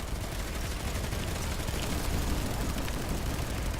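Dense, continuous gunfire from the video game Planetside 2, a steady roar of overlapping shots and distant blasts with no pause.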